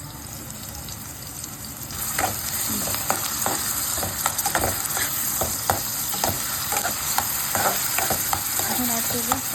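Ginger-garlic paste fries in hot oil in a pan with taro stolons and dried shrimp, hissing steadily close to the microphone while a spatula scrapes and stirs in a series of short, repeated strokes.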